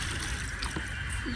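Water is poured into the soil of a potted snake plant during hot summer weather, giving a soft, faint trickle and dribble under a steady background hiss.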